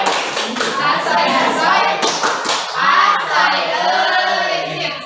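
Children in a classroom perform a rhythmic clapping chant, sharp hand claps and taps mixed with young voices talking and chanting close by.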